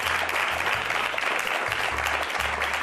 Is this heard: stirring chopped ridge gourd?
no